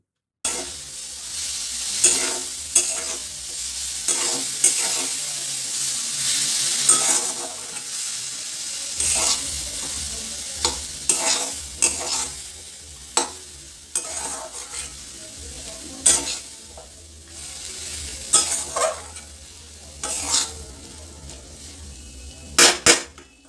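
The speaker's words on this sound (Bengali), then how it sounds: "আলুটা উল্টে পাল্টে একটু বেশ ভালো করে ভেজে নিতে হবে" Potatoes and drumstick flowers, already coated in spices, are stir-fried in a wok, with a continuous sizzle broken by repeated sharp scrapes and clatters of the spatula turning the food, near and distinct throughout.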